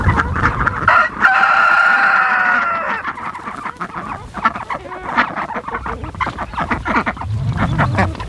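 A rooster crows loudly up close, then hens cluck in quick, busy bursts that carry on steadily without a break, on a homestead farm.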